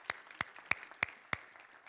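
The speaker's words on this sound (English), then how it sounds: "Let's give the moms a clap." A handful of people clap for mothers on Mother's Day in a church service, five sharp, evenly spaced claps ringing close and distinct, fairly quiet overall.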